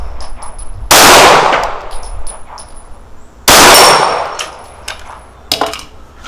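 Three 9mm rounds from a Springfield Echelon 4.0c compact pistol, each shot followed by a loud, ringing clang from a steel gong target, spaced a couple of seconds apart outdoors with long metallic decay.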